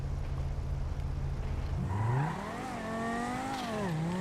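A Bravado Banshee GTS sports car in GTA Online rumbles at idle, then revs up and pulls away, its engine note rising and shifting through gears, steady and fairly close with no talk.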